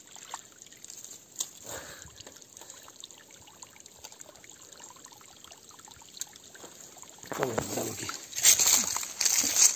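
Water trickles into a small pool dam in the Las Hurdes hills after a wildfire, a faint, steady running sound that turns into louder splashing and sloshing near the end.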